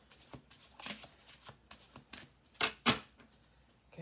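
Tarot cards being shuffled by hand in quick riffling bursts, close and fairly quiet, with a few sharper flutters near the end.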